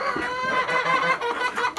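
Chickens cluck close by, several overlapping short clucks and murmurs in a busy, continuous chatter.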